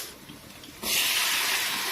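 Potato and spices frying in a pan with bay leaf, ginger, garlic and onion, starting as a quiet sizzle and then bursting into a loud, steady hiss after something is added, no talking.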